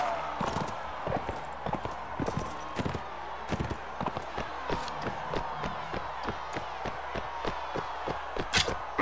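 Horse hooves clip-clop in the Mount & Blade Warband video game, a steady run of close, sharp hoof beats lasting the whole stretch, with a faint crowd-like background and no talk.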